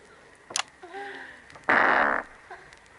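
A voice imitates a fart with the mouth, a loud raspy buzzing blurt lasting about half a second, preceded by short sputtering noises and followed by a faint trailing sound.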